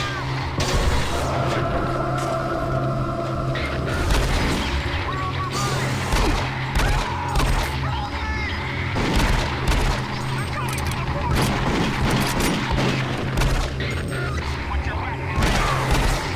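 Gunfire and clanking weapon noise from the video game Doom 3 sound throughout a busy, dense mix over a constant droning background, with a voice talking over it at times.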